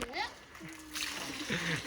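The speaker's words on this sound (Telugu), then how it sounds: "నీళ్ళు మొత్తం చల్లినావు మొత్తం బురద వేసిపోయినావు" A child splashes and throws water around, and soft splashing and sloshing sounds mix with a voice and an adult talking nearby.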